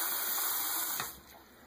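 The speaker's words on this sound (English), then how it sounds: "You hit it with ice cold water right while it's in the position you want it to stay in." Ice-cold water runs steadily from a tap onto a vintage action figure's warped plastic leg, a broad hiss that drops off and softens near the end.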